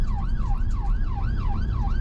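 An ambulance siren wails in a rapid rising-and-falling cycle during a UK emergency chase, loud and close, repeating about every 0.4 seconds over a low rumble of road and engine noise.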